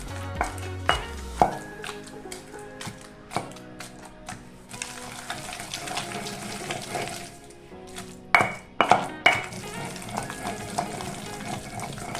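Tamarind leaves and tomatoes pounded in a mortar for a chutney, producing repeated thuds and wet squishing strikes in an irregular rhythm, close and fairly loud, with a few sharper knocks.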